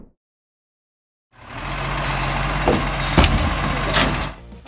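A garbage truck engine starts up after about a second of silence, then runs as a steady, fairly loud low rumble with a few brief mechanical knocks, and no voices.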